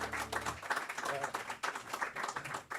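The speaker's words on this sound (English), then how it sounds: "that's his applause" Audience applause after a Friday night performance of a song, a steady dense patter of clapping with some talk mixed in underneath.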